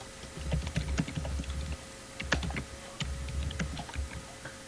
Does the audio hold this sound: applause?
no